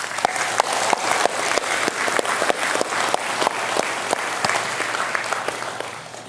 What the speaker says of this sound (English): why don't you join me in giving a big round of applause to all in the mining sector